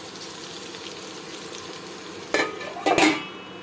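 Potatoes frying in a pan, a soft steady sizzle close by, then a couple of louder clattering bursts as a lid or utensil touches the pan near the end, no talk.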